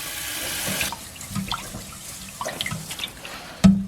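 Running tap water splashes and swishes over rice in a pot, uneven sloshing close by as the rice is rinsed, ending with a sharp clink.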